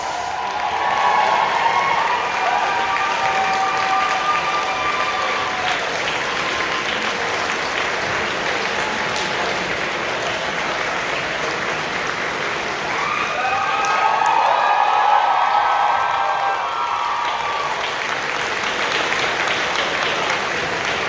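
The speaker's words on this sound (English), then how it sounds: "Thunderous round of applause." Large crowd applauding a cosplay competition winner at a convention closing ceremony, dense sustained clapping with cheers rising and falling for about twenty seconds, loud and close, with faint background tones.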